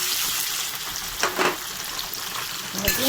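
Tomato, dried red chilli and ginger paste hit a pan of fried potatoes, giving a close, steady sizzle broken by a couple of brief scraping stirs.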